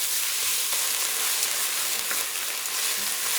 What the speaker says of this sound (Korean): 이게 노릇노릇하게 될 때까지 볶아요.